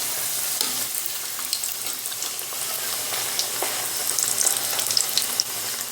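Samosas deep frying in hot oil give a continuous close bubbling sizzle with scattered crackles and pops, and no voices.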